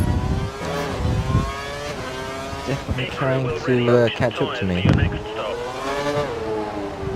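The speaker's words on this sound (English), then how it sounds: "He's running on full revs." A race car in a racing video game on a Singapore circuit runs at full revs, its engine a steady high whine that climbs and falls in pitch beneath continuous talking.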